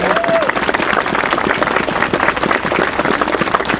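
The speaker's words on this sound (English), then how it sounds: "Let's give them a round of applause." A crowd claps and cheers for volunteers at an outdoor playground dedication in Elizabeth Park, Hartford, loud sustained applause through the whole stretch.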